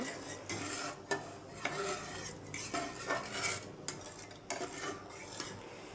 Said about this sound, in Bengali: এবার জল দিয়ে দিলাম এবার নেড়ে চেড়ে নেব